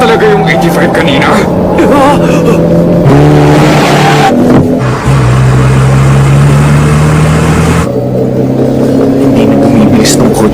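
A race car engine from the Initial D anime speeds downhill, its steady high-pitched drone shifting in pitch with a few breaks, loud throughout beneath continuous voices talking over it.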